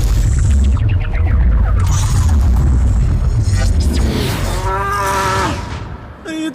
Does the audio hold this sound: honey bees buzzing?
no